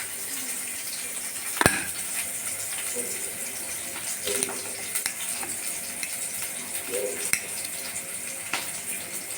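Cumin seeds and chopped onion fry in hot oil, giving a steady close sizzle with a few sharp pops and light utensil clinks scattered through it.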